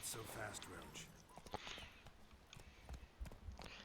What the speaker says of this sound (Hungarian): Ez az ügetés, ami most zajlik.